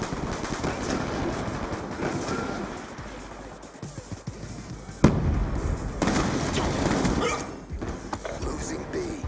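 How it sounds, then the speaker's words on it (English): Airstrike explosions in Call of Duty: Black Ops 2, heard as dense rumbling blasts and crackling gunfire, with a sharp loud burst midway and continuous battle noise throughout. "Put an airstrike right on the roof."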